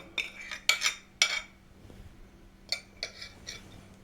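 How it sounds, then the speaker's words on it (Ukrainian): A spoon clinks and scrapes around a bowl while carrot salad with garlic and sauce is stirred, a quick burst of several taps, a pause, then a few more knocks, close and alone. "Гарненько перемішуємо, щоб весь соус поєднався разом з морквою."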